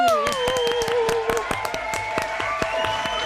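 Audience clapping at a Korean healing live concert, steady irregular claps from a moderate crowd while a few voices and tonal sounds carry faintly underneath, just before a saxophonist's performance.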